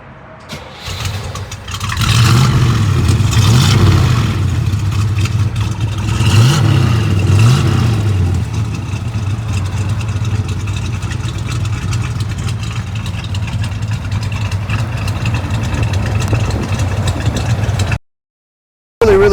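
A 1967 Chevrolet Chevelle SS 396 V8 cranks and fires, gives a couple of quick revs, then settles into a loud, steady, burbling idle for well over ten seconds before cutting out abruptly near the end.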